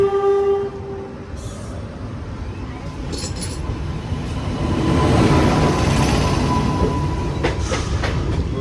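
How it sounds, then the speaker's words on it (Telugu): A train pulls in with a horn blast at the start, its rumble and rolling clatter swelling louder and nearer toward the end of the stretch. "ఇంకేదో ట్రైన్ వస్తుంది"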